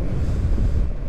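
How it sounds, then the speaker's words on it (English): Heavy wind buffets the microphone in a constant low roar. "Oh dear, that's windy now."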